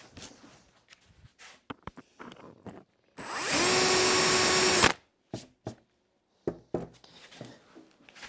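A short burst of a power drill whirring steadily for under two seconds, drilling a shallow hole in a CNC workshop, surrounded by quiet workshop clicks and taps.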